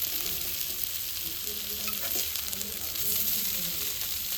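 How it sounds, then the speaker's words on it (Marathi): Fish shallow-frying in a pan over low gas, a continuous close crackling sizzle with occasional soft stirring scrapes underneath. "आपले मासे मस्तपैकी भाजतात आणि ही किरकिर ऐकून मला खूप बरं वाटतं"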